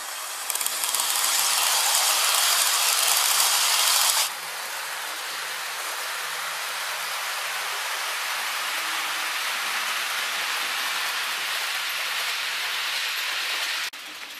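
Hornby R3580 Class 87 'Robert Burns' model electric locomotive with coaches climbing a model railway incline, a loud, steady close-up motor whir and gear hum with a harsher buzz in the first four seconds.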